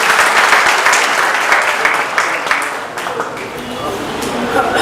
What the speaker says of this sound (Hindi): उनका चाहूंगा एक बार जोरदार तालियों के साथ आप स्वागत करेंगे